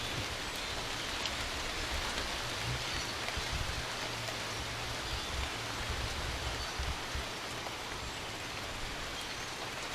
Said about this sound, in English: it gets cold and rainy